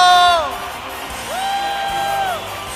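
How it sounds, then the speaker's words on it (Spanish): A church congregation at a live Easter worship gathering shouts with joy, a loud burst of whooping at the start followed by a sustained, wavering collective cry that fades out. "¿Cuántos podemos gritar un grito de júbilo?"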